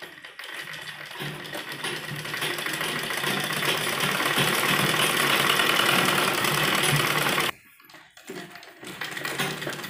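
A sewing machine stitches along a folded hem of a child's lined kurti, a close, steady, rapid mechanical whir that stops abruptly near the end, followed by a brief pause and a few handling clicks before restarting.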